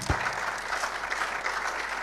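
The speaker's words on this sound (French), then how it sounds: "Applaudissez pour elle." Audience at a film club screening applauds, a fairly soft, steady patter of many hands with a faint thump near the start.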